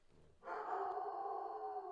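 A dog vocalizing indoors, starting abruptly after a brief quiet moment and holding a drawn-out, tonal whine or howl for well over a second, fairly soft and heard alone.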